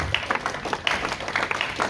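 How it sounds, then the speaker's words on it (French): A church congregation claps at a pastor's request, with scattered, uneven hand claps over a low crowd murmur and no single steady rhythm. "Je veux des acclamations"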